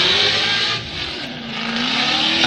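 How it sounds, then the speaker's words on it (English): Drift car at a Formula Drift PRO2 qualifying round in Atlanta, engine roaring loud and close, dipping briefly as the driver lifts off the throttle to let the car slide, then rising again with tire noise. "You can hear him lifting a little bit just to get it to slide out."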